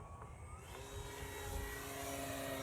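A Dynam PT-17 RC model biplane drones overhead in flight, its small electric motor making a steady whine that shifts slightly in pitch as it passes at moderate distance, with wind noise underneath.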